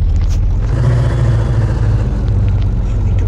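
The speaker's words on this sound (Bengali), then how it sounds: "engine start" A car engine starts and runs in a mobile video game, a loud, steady low rumble that continues without a break for the whole stretch, with no speech over it.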